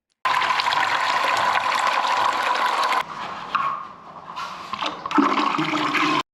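Water poured into a partly blocked urinal drain gully in an office and warehouse washroom, a loud close gushing splash that runs steadily, then breaks into uneven trickling and gurgling surges as the water fills the gully.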